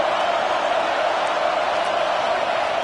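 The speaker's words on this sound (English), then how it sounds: "listen to this crowd noise. This stadium is vibrating." A stadium crowd at a football game roars as one continuous, loud, even wash of noise, with no break for the whole short stretch.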